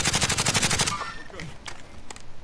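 Rapid automatic gunfire from a Call of Duty Warzone match, a tight burst of evenly spaced loud shots for about a second, followed by a few scattered single cracks and faint background game noise.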